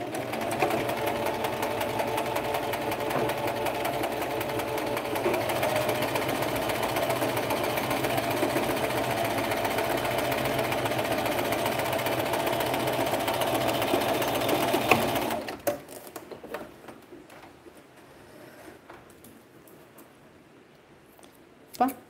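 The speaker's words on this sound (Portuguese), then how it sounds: "Como eu tô usando esse pezinho de metade, é bem fácil de costurar próximo da borda" A sewing machine fitted with a half presser foot stitches close to the fabric edge. It runs in a steady, fast mechanical whir for about fifteen seconds, then stops abruptly, leaving a few faint clicks and handling noises.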